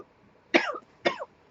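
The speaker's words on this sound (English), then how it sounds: "every time I talk, I start coughing only on the video" Two sharp coughs, about half a second apart, from a person working at a craft table making a pumpkin easel card and treat bag, close and clear against a quiet room.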